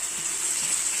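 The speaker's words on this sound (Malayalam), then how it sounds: "ചൂടുവെള്ളം ഒഴിക്കാം, തണുത്ത വെള്ളം ഒഴിക്കരുത്." Hot water poured into frying onions for a prawn roast gives a brief, steady hissing sizzle, fairly quiet, with no talking.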